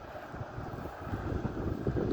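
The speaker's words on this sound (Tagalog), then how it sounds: "Lamig. Ginaw. Lakas ng hangin kasi." Strong, cold wind gusts across the microphone outdoors during a walk, a continuous loud rumbling roar that swells and dips without letting up.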